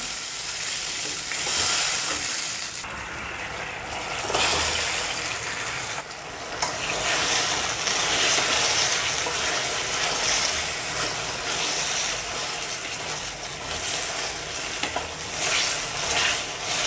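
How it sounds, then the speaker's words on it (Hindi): Honey chilli chicken frying in a pan with soy sauce, vinegar, chili sauce and honey gives a loud, continuous sizzle and hiss, broken by the scrape and clatter of stirring, with no voices. "थोड़ी देर इसको फ्राई कर लेंगे।"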